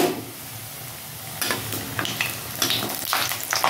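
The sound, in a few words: frying urad dal bori in oil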